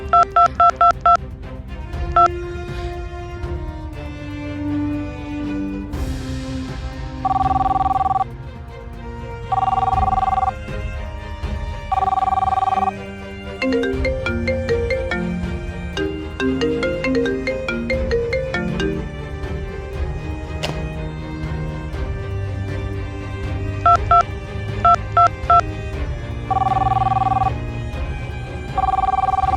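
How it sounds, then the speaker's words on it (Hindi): A mobile phone rings with an incoming call in a domestic drama scene, its repeated bursts of electronic ringtone sounding clearly over background music, with pauses between the rings. "क्यों फोन कर रही है यार?"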